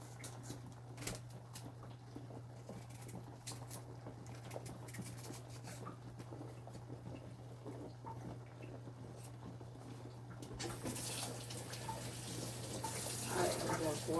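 Running tap water pours steadily over yellow yam being washed in a sink, a continuous watery rush that grows louder and brighter near the end, with a low electrical hum underneath.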